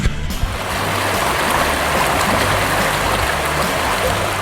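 A small, clear trout creek in Pennsylvania flows in a continuous, loud, close rush and gurgle of water with no pauses, after a brief bump at the start.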